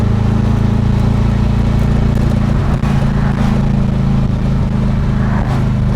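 A supercharged 1600cc VW Karmann Ghia engine with an AMR500 supercharger, held at high RPM, a loud, steady, buzzing roar that barely wavers over several seconds.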